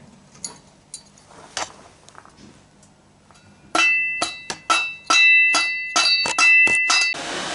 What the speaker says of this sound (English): Now I'm going to try and hammer that in a bit.